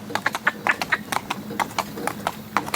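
Hooves of a mare walking on a hard surface, an uneven run of close, crisp clip-clops with a faint voice in the background.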